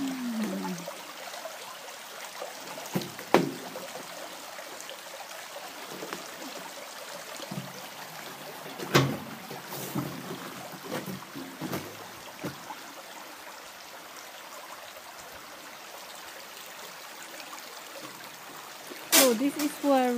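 A small brook along a Welsh countryside walk trickles and babbles steadily in the background, with occasional louder splashy bursts, while people talk over it at intervals.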